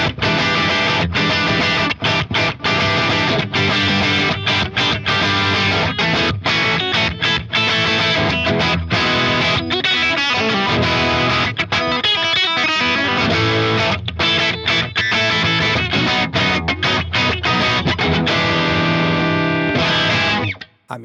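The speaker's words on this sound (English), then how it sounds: "if I go back to the single coil mode on this guitar, we get some really great classic rock tones." Electric guitar in single-coil mode played through an Axe-Fx Marshall-style amp model, loud distorted classic rock riffing with sustained chords and choppy rhythmic breaks, alone and close, ending in a sudden cutoff.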